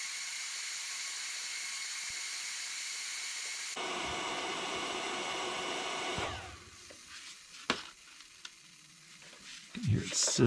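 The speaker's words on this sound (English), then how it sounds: "You can hear it sizzling." Steady hissing sizzle as heat is applied to loosen a fastener on a Jeep Wrangler JK automatic transmission oil pan, then it breaks off partway and gives way to quieter crackles, faint clicks and handling noises.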